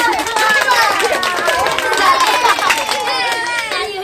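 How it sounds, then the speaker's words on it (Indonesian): Children in a classroom clap together in a dense burst of applause, mixed with cheerful chatter and young voices calling out throughout. "tepuk tangan dulu dong"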